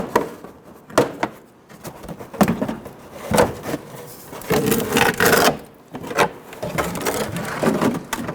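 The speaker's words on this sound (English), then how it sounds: "grab that wheel well liner and pull it down in the front section" A plastic wheel well liner on a 2000-2006 Toyota Tundra is pulled down and flexed, giving close, uneven rubbing, scraping and crinkling bursts with brief pauses, no speech.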